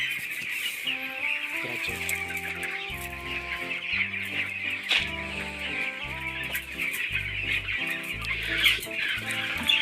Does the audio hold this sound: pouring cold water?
no